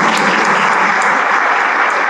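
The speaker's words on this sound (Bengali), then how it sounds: "স্টুডেন্টরা সবাই দাঁড়িয়ে করতালি দিবে" Students give a standing ovation at a seminar, filling the room with dense, sustained clapping that stays loud and even throughout.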